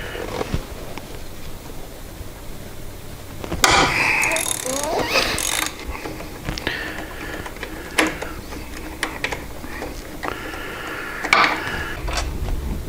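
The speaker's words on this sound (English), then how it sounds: "So now we need to remove the rear caliper from the caliper arm that goes around the axle." A ratchet loosens the rear brake caliper bolts on a Harley Davidson motorcycle, giving close, rapid clicking bursts mixed with metallic clinks and tool handling across several strokes.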